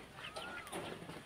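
Chicks peep softly in a farmyard pen near protective adult chickens, short high chirps scattered over a brief moment with faint clucking around them.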